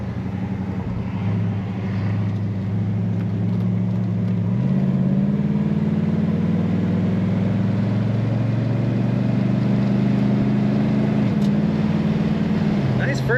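A 1968 Oldsmobile Cutlass S convertible cruises on the highway, its engine droning steadily with a gear shift midway, the low hum rising slightly in pitch as it speeds up.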